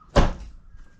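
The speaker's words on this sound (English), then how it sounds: "And then we'll shut the door." A single solid thunk as the door of a Toyota Land Cruiser 79 Series V8 swings shut, close and loud, followed by a brief fading low resonance and quiet.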